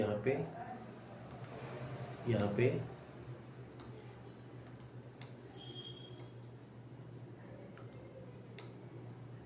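Soft, scattered computer mouse clicks while working in Solidworks CAD software, a handful of faint isolated taps over a low steady hum, with someone speaking briefly at the start.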